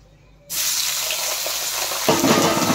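Chopped, rinsed potatoes drop into hot oil for sabudana khichdi, setting off a sudden loud, steady hiss of frying that swells further partway through as they are stirred.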